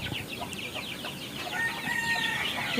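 Siruvidai native chicken chicks cluck and chirp quietly on a poultry farm, a few overlapping calls and a faint crowing note, with soft background noise.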